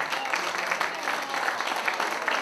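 A concert audience applauds a winery, producing a short burst of crowd clapping with quick, uneven hand claps that stay fairly loud and close for the whole stretch, with faint voices mixed in.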